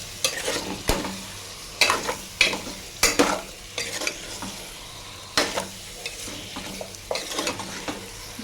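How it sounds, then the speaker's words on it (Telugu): Coconut chicken (pachi karam kobbari chicken) being stirred in a frying pan, with repeated sharp scraping strokes over a steady sizzle, close and fairly loud, no voices. "ఇలా వేసేసుకొని కలిపేసుకోవాలి."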